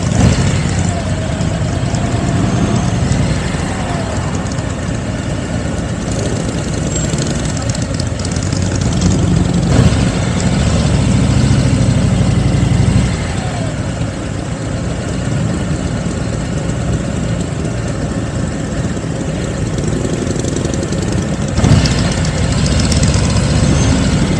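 Mopeds and motorbikes idle together at the Bike Days Willingen 2024 gathering, a steady, loud, low engine rumble that carries on without a break, with no voices over it.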